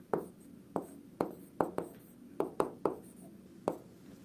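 A pen scratches out a physics equation by hand in quick separate strokes, about ten short sharp scrapes spaced through the moment, close and quiet against a soft room hush.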